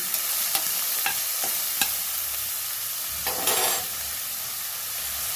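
Onions frying with a pinch of salt in a pan for a brinjal and soya chunk curry, a loud continuous sizzle with a few sharp utensil taps and scrapes as they are stirred.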